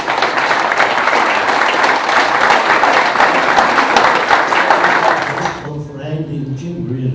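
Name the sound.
audience applause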